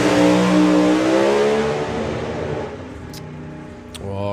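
A drag racing car at Santa Pod Raceway revs hard and accelerates, a loud roaring engine with rising harmonics that fades as it pulls away, followed by a brief renewed rev near the end.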